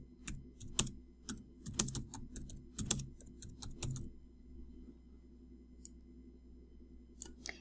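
Someone types a short phrase on a computer keyboard, a quick uneven burst of crisp key clicks. A pause follows, then a few more scattered taps, all close and quiet.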